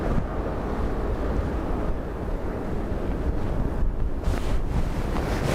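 Strong crosswind gusting during Storm Bram at Dublin Airport, a continuous roaring buffet of wind noise on the microphone, loud and steady throughout with surging gusts and no voices.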